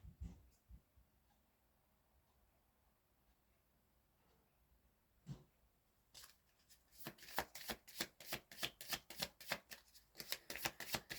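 Tarot cards riffled and shuffled by hand, a few soft taps early on, then a dense run of crisp rapid riffles building to close, fairly loud, with no talk.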